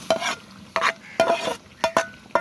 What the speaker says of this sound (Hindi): अब इन्हें अच्छे तरीके भूनेंगे मसालों को।